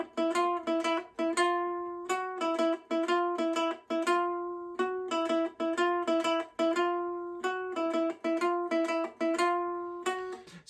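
A ukulele plays further bars of a wrestling theme, bright strummed chords in a steady, punchy rhythm with short pauses between phrases, clear and alone.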